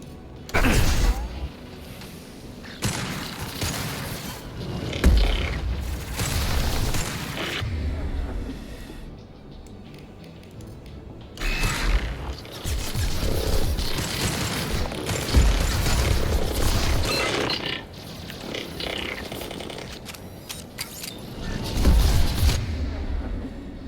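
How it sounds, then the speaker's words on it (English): Enemy gunfire and combat in Mass Effect 2, intermittent loud bursts and booming impacts arriving in waves with mechanical clatter between quieter stretches. "And apparently these guys are shooting at me pretty badly."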